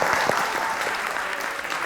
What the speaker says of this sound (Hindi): बहुत से एक बार तालियां होनी चाहिए यार